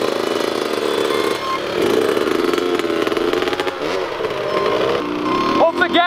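Youth dirt bikes revving hard in first gear at the start of a backyard race, loud and close, engines climbing and falling in pitch, with shouting voices over the din.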